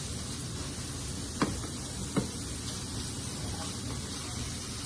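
Tofu fries over a high flame in a pan, giving a continuous, even sizzle and hiss with a couple of brief sharp pops or clinks; no voices are heard.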